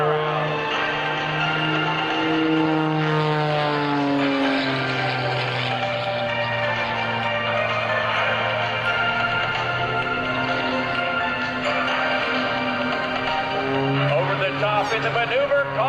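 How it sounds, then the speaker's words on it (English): Aerobatic propeller airplane at the 2004 Sussex Airshow flying two consecutive hammerhead turnarounds under hard rudder, its engine droning steadily and rising and falling in pitch throughout, loud and continuous beneath a voice talking over it. "Now hard, full left rudder as Sean completes not one, but 2 consecutive hammerhead turnarounds."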